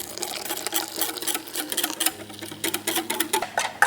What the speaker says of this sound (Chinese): 一边搅拌面糊， 一边慢慢的倒入牛奶